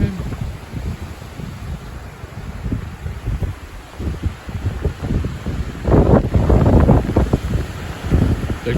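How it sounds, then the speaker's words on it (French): Strong wind gusts buffet an outdoor microphone in a mid-April storm with gusts above 80 km/h, a constant low roar that swells into a louder, rougher blast near the end, with leaves tearing loose. "Il y a du vent quand même."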